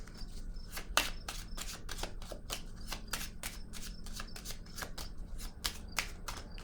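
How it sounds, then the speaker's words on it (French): Tarot cards shuffled and laid down on a table, a dense run of crisp papery flicks and slaps in quick rhythm, close and moderately loud with no voices. "Je vais déposer maintenant une carte sur l'équilibre à l'envers"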